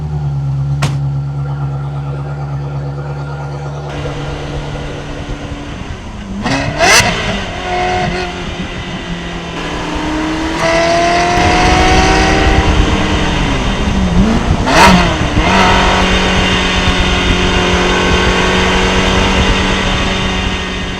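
A Ferrari 360 engine idles, then revs hard several times with sharp rising whines and a deep growl, loud and close.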